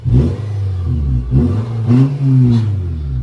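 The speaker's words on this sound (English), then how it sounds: "Sounded like one of those cars with a tin can exhaust." Loud, raspy exhaust from a Nissan with an exhaust leak, rising and falling as the car revs several times, a rough, blatting tin-can drone close by with no voices.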